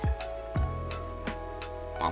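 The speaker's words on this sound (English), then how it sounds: "That's the sound of the fans when I stop talking." Loud fans fill a room with a steady whooshing hum, a few soft knocks breaking through now and then, with no talking over it.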